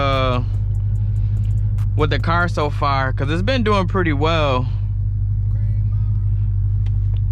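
A Dodge Hellcat Widebody rumbles steadily from inside the cabin while driving, with a low constant engine drone beneath someone talking for a few seconds.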